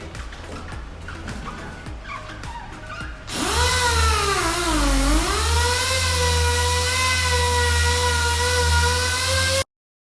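Machine polisher doing an initial cutting pass on car paint, first heard faintly under background noise, then starting up loud and close as a steady whirring whine that dips and rises in pitch as the load changes, running continuously until it stops abruptly.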